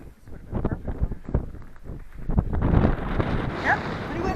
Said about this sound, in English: Yep, pretty windy.